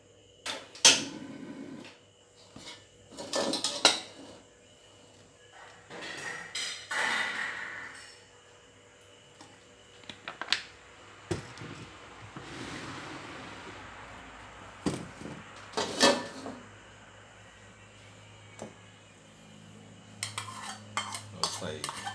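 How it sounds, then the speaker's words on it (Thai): A spoon scrapes and knocks against a pan as prepared spice ingredients are stir-fried for a banana blossom salad with roasted chili paste. The strokes are close and irregular, with sharp clanks between softer shuffling. "เราจะมาผัดเครื่องก่อนหน้าผมเนาะ"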